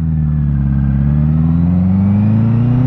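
A motorcycle engine revving hard in first gear, one continuous loud close drone with its pitch climbing steadily over a few seconds, no voices.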